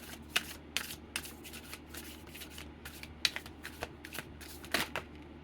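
Tarot cards are shuffled close by in quick riffling bursts, with sharp flicking snaps and soft sliding rustles repeating irregularly in a quiet room and no voices.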